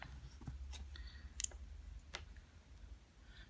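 A few sharp, quiet clicks from the fire switch of a BANASPATI competition vape mod by Ultimavape, pressed close up against a low background hum, with one slightly louder click near the middle.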